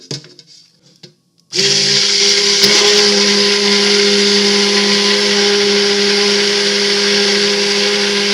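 Soap batter being blended in a pot at 38 degrees with a stick blender, which kicks in after a short pause and then holds a loud, steady motor whine to the end.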